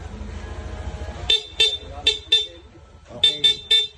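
The stock horn of a Yamaha NMAX scooter honks in short, sharp beeps: four quick toots, a brief pause, then three more, loud and close.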